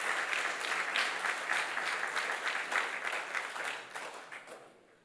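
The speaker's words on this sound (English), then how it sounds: "that's something we really do need to applaud" Audience applause fills a conference hall at a SANParks indaba, a dense steady clapping from many hands that holds strong and then tapers off toward the end.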